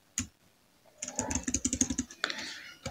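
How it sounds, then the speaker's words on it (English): Quick clusters of keystrokes clatter on a computer keyboard while entering a file name in ArcGIS, a short tap, then a fast run of crisp clicks, close and fairly quiet. "type the name"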